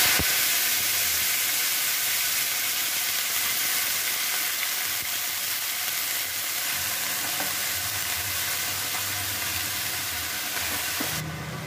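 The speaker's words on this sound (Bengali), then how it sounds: "এবার বাঁধাকপিটাকে আমি একটু ভেজে নেব।" Shredded cabbage frying in a pan, a steady dense sizzle running unbroken and fairly loud throughout, with no talking.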